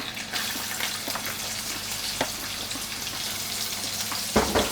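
Onions fry in a pan with a steady, close sizzling hiss, broken by a few soft clicks and a louder stirring bump near the end.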